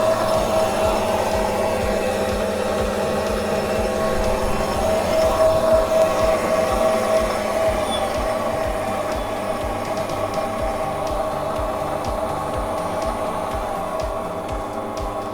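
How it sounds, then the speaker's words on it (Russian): An MML 1830V benchtop hobby lathe with its chuck spinning at around 1000 to 1100 rpm gives a steady, even motor whir and rotating hum that holds for the whole stretch with no voices. "Включение. Вот у нас пошел вращаться патрон."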